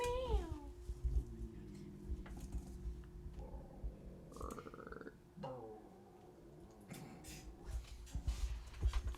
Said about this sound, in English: Right as the cats are fighting behind me.